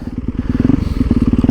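A motorcycle engine revs up sharply as it drops a gear on a downshift with no throttle blip, close and loud, its pulsing note rising and steady across the short burst.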